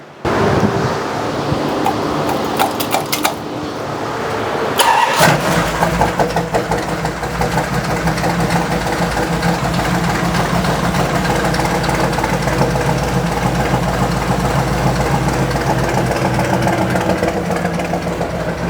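A car engine with a Holley carburetor running too rich cranks briefly, catches and settles into a steady, rumbling idle around 750 rpm that runs on without stopping, close by and loud.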